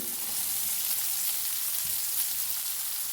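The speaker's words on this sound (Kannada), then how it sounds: "ಇದೀಗ ಚೆನ್ನಾಗಿ ಸ್ವಲ್ಪ ಫ್ರೈ ಆಗಲಿ." Coconut pieces fry in a pan over a high flame, giving a loud, even, continuous hiss of hot oil with no pauses. No one speaks.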